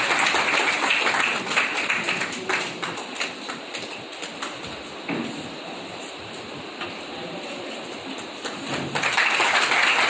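An audience applauds at a Brahma Kumaris gathering to welcome a guest, a dense patter of clapping that starts loud, thins and softens in the middle, then swells again near the end.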